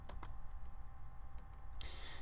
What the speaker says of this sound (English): all I would need to do to add a contact is click on Add and type in the name